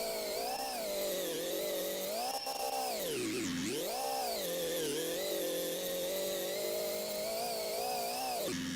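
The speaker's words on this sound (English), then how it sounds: "Oh, do you want to get rid of the angry lawnmower sound?" Harsh, buzzing engine in the Gearblocks building game, droning like an angry lawnmower on a tracked tank build, loud and continuous, its pitch dipping and rising as the load changes, with no talk over it.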